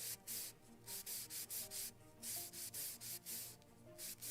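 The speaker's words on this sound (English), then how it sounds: "Good, or should I sand a little more in the center?" Hand sanding on wood: steady back-and-forth scratchy strokes in a quick, even rhythm, close by with no talking.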